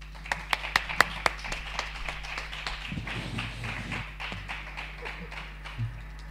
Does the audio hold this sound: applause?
yes